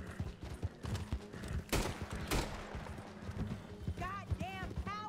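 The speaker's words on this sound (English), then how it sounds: "Oh, crazy horse! Crazy horse!" Horse hooves clip-clop in the western video game Red Dead Online, a quick uneven trotting patter mixed with a few sharp game sounds, while someone shouts excitedly over it.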